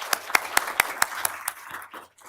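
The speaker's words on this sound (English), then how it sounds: "I would just love a round of applause so that we can show our appreciation" A short burst of applause at a Board of Supervisors meeting, sharp individual claps in an uneven rhythm that thin out and fade after a couple of seconds.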